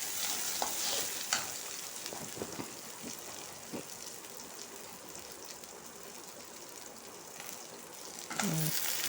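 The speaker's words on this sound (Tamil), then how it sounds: "கத்திரிக்காய் போட்டு நல்லா பரட்டி இந்த எண்ணெயிலே போட்டு பரட்டி" Brinjal frying in oil for a Tamil-style brinjal fry, with a soft, rain-like crackling sizzle broken by occasional spoon taps and scrapes, faint and steady.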